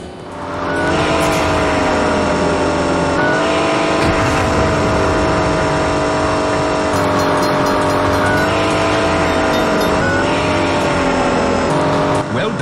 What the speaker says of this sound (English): The getaway car just passed us at 120 miles per hour.